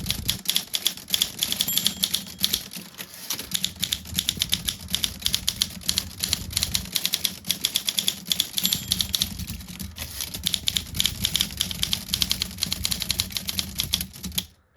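An Olympia SM3 manual typewriter clatters with rapid, dense mechanical clicks and type-bar strikes during trip point adjustment, close and continuous with a brief lull near the middle.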